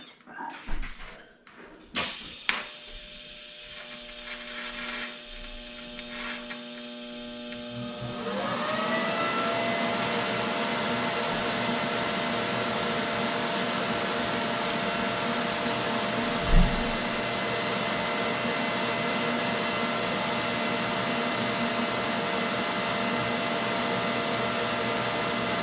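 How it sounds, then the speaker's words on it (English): TIG welding on a Cobra Daytona car build: a few clanks and handling knocks, then a steady electric hum and hiss from the arc that holds evenly for about seventeen seconds, close and loud. "So let's see if we can get this thing welded up."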